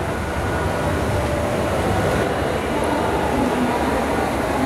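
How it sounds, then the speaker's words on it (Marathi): A local train rumbles at Goregaon station in Mumbai, a loud, continuous rolling roar of wheels and carriages close by, filling the whole moment without a break. "ही ट्रेनची तुम्हाला मागे जी ट्रेन दिसते"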